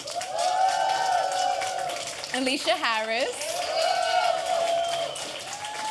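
Audience applause rises for award nominees named one after another at a 2019 4A's Foundation Society of Excellence ceremony, a steady wash of clapping that runs under the announcer's voice throughout.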